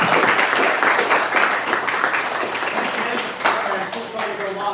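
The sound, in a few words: audience applause for the guest speaker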